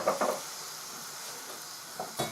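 A pint of homemade red wine poured into a still-hot pan to deglaze it, giving a steady faint hiss and sizzle with a few soft scraping clinks against the pan.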